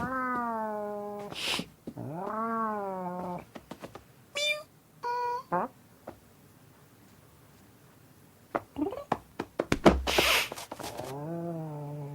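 Cartoon cat meows from a Simon's Cat animation, several drawn-out, wavering cries with short squeaks and chirps between them, fairly close and clear, with a loud burst near the end before a final long meow.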